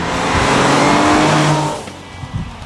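A Nissan 370Z's engine revs hard and loud while driving, a close, sustained high-pitched roar that drops away sharply near the end, leaving quieter engine rumble.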